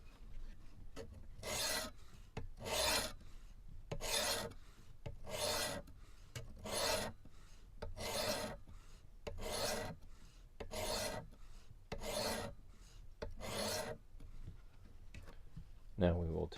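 A Kershaw Bracket knife drawn across a Work Sharp Pro sharpener in ten evenly spaced, close rasping strokes, each a short grinding swipe, with a quiet voice talking between them.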